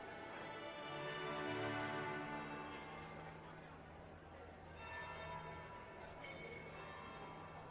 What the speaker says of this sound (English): That would be the second bell.